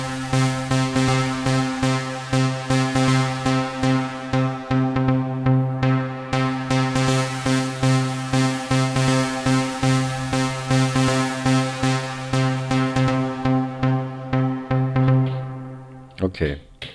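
Digitone 2 synth sequence drenched in huge, dense reverb: a steady pulsing pattern of sustained, harmonically rich tones that wash together continuously for most of the stretch, then cut off briefly near the end before a few final hits.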